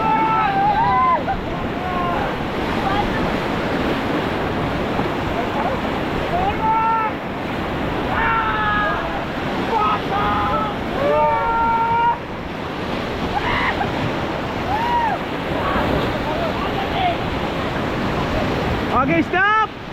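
Roaring river rapids while rafting on a 16 km run in Rishikesh, a steady loud rush of churning water and wind with voices shouting throughout.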